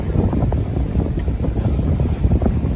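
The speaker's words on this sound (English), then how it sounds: "Wind's getting up, look." Strong wind blows at Jomtien Beach in Pattaya, a loud, continuous roaring buffet against the microphone with low rumbling gusts throughout and no speech.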